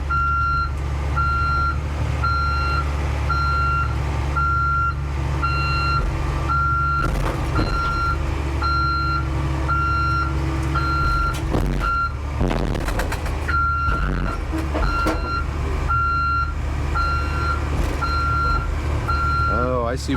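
Reversing beeper on a 2000 Cat 322B tracked excavator, a loud steady series of evenly spaced electronic beeps over a constant diesel engine rumble, with brief clanks and a person talking nearby.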